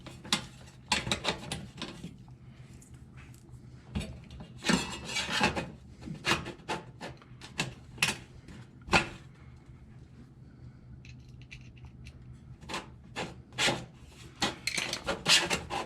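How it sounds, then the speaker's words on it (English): Screws being driven back into the metal cover of an electric range, a close series of short scraping, ratcheting turns with brief pauses between them, fairly quiet and with no talking. "you put the screws back in this cover"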